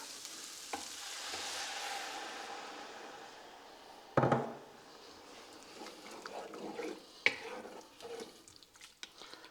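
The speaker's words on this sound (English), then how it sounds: "And now we'll add in the stock." Stock poured into a pan of floured chicken and leek pie filling, giving a soft, steady rush and sizzle with a sharp knock midway and a few clinks of stirring, fairly faint and close.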